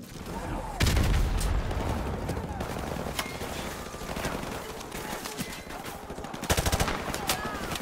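A video game shootout crackles with bursts of automatic gunfire, two heavy close volleys standing out over a continuous rattle of shots, while a player talks over the action.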